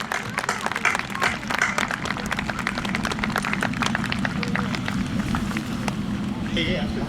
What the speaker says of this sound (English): one last massive cheer for our own Muskie